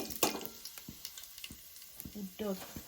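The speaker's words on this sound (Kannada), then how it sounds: "ಸಾಸಿವೆ ಆದಮೇಲೆ ಕಡಲೆಬೇಳೆ ಹಾಕ್ತೀವಿ" Chana dal frying in hot oil with mustard seeds in an outdoor village kitchen, a close crackling sizzle with sharp spattering pops and scraping stirs, brief voice fragments in the background.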